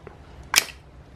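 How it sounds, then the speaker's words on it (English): A sliding lens shutter on a Georgian-era brass naval telescope is moved once, giving a single brief metallic snap or click close to the microphone against a quiet background. "sliding lens shutter, which I think is pretty cool"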